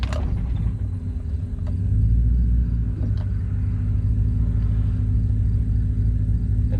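An LS-swapped Porsche 944 pulls away with a loud, close, low engine rumble that surges and lurches unevenly as the car bucks, with faint mechanical clunks over the steady drone.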